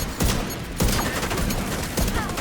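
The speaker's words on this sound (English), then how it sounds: "Hostile assault turret detected." A hostile assault turret in Division 2 firing bursts of rapid gunfire, sharp cracking volleys around a continuous loud combat background, close and forceful.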